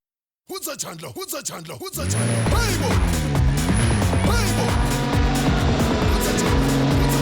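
Mercedes-Benz AMG cars on a racetrack: an engine revs in short bursts, then roars into a loud, sustained drone with shifting pitch and faint tire squeal, close and dominant.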